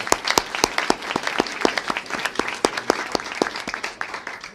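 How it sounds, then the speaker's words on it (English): A fairly thin round of applause for healthcare professionals at a Medicaid event with Illinois governor Pritzker, individual sharp claps distinctly audible in a loose, uneven rhythm, no speech over it. "Can you give them a big round of applause?"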